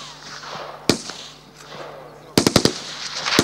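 An automatic rifle fires at a school shooting range: a single loud shot, then a rapid burst of four shots, over outdoor background noise.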